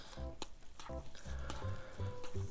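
Everything bagel cup noodles are stirred in their cup, giving short repeated scraping and swishing strokes in a quick rhythm, close up and fairly quiet.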